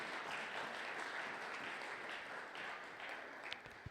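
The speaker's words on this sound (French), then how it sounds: "Acclame encore pour m'encourager avant de continuer." Church congregation at a Sunday praise and thanksgiving service applauding to encourage the preacher, a steady wash of many hands clapping from start to end, moderately loud and continuous with a few sharper claps near the close.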